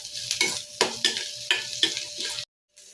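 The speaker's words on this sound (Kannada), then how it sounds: "ಈರುಳ್ಳಿ ಜೊತೆನೆ ಸ್ವಲ್ಪ ಹಸಿ ಶುಂಠಿ ಮತ್ತು ಸ್ವಲ್ಪ ಬೆಳ್ಳುಳ್ಳಿನೂ ಫ್ರೈ ಮಾಡ್ಕೋತೀನಿ" Onion, ginger and garlic frying in a pan for mutton saaru, with a soft sizzle under five or six distinct rhythmic stirring scrapes, close up, ending abruptly.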